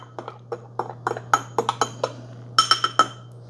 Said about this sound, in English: And then I stir that up.